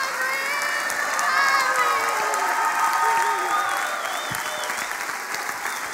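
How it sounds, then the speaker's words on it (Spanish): A live cabaret comedy crowd in Puerto Vallarta applauds and cheers, with sustained clapping mixed with whoops and raised voices throughout, loud and continuous before easing slightly toward the end. "Un aplauso, por favor, Emanuel, hermano."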